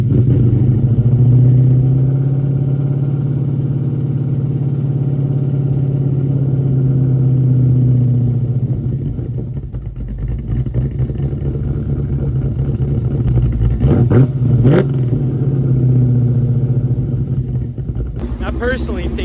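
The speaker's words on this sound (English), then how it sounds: "The exhaust on it, amazing." A Ford Mustang Foxbody exhaust rumbles steadily nearby and then revs a few times, with some voices underneath.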